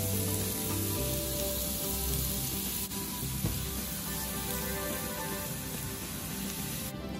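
Turmeric leaves crackle and sizzle in hot oil in a pan, a steady close frying hiss with no voices.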